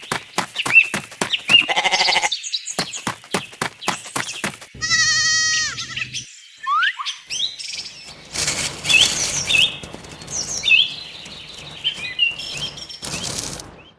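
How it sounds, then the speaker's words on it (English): Goats bleat repeatedly in a farmyard, mixed with bird wing flaps, chirps and other livestock calls; the bleats are close and fairly loud, with no talking. "Goat."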